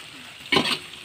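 Whole spices, garlic and peppercorns frying in a pan for chicken biryani, a steady soft sizzle with one short, loud scraping stir near the middle and no voices.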